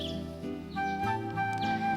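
Birds chirp outside in a morning scene of the visual novel game Da Capo II, bright quick tweets repeating over soft background music, close and clear with no talking.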